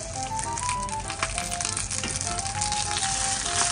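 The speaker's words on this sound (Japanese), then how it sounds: "フライパンにごま油を熱して、鶏もも肉は皮の面からね、焼いていくよ" Chicken thighs fry skin-side down in sesame oil in a frying pan over medium-low heat, giving a steady dense sizzle and crackle up close, with scattered pops and faint tonal clinks throughout.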